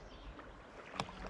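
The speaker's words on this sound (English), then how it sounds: "This is us paddling from Aberlour down to Spey Bay" A canoe paddled down the River Spey from Aberlour toward Spey Bay, with soft water lapping and a single paddle splash over faint wind.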